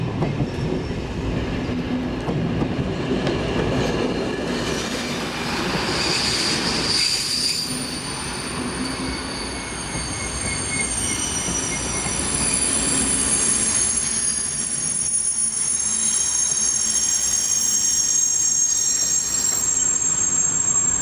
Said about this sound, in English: Class EE33 electric shunter 16368 has these under control.